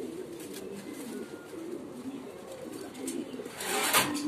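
House pigeons at a pigeon farm coo in low, repeated rolling calls that blend into a steady, close murmur.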